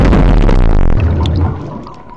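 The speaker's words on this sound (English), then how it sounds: "for underwater explosion sort of sound." Underwater explosion effect built from bubbles and a heavy weight splashing into water: a loud, dense burst of bubbling and churning water that rolls on for about a second before thinning into a fading gurgle.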